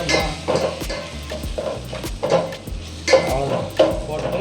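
A spoon stirs cumin powder into mushroom gravy in a pan, giving repeated scraping and clinking strokes against the metal with a soft sizzle beneath, close and fairly loud.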